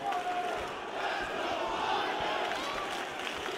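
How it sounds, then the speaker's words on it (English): A crowd chants in the arena of the fighting game EA Sports UFC 3, a steady, dense roar of many voices sustained throughout, with faint speech mixed in. "Let's go, Weidman chant, reading through the crowd."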